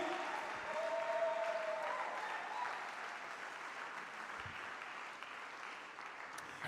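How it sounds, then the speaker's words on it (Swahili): A church congregation claps together in a steady, moderately distant round of applause that carries on evenly throughout, with faint crowd murmur beneath. "Makofi hayatoshi, piga tena"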